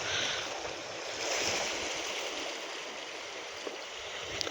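Sea waves washing onto a beach, a continuous soft rushing surf with gentle swells, fairly quiet and heard from a distance with no voices.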